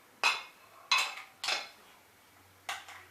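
Four separate sharp clinks of a utensil against a bowl while cucumber is added to yogurt for tzatziki, three in quick succession and one after a pause, close and crisp with quiet in between.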